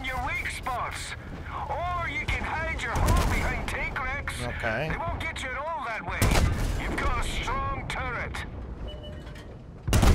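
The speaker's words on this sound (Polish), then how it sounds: "Podoba mi się strasznie ten odgłos tego wystrzału." Tank cannon shots boom in World of Tanks gameplay, several heavy blasts and crashing explosions under a player's steady chatter and game sound effects.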